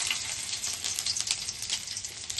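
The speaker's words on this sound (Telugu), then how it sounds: "ఆయిల్ వేడైంది మనం కట్ చేసి పెట్టుకున్న అల్లం ముక్కలు వేసుకుందాం" Chopped ginger sizzles steadily in hot oil in a pan while pasta is being made, a close, dense crackling hiss that runs unbroken with no voices.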